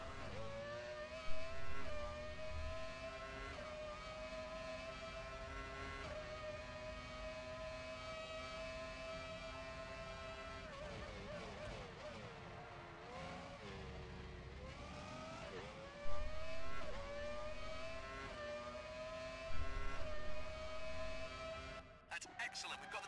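A Formula 1 race car engine in the F1 Championship Edition video game screams continuously at high revs, pitch sliding through gear changes across a long run, with occasional bumps and brief talk over it.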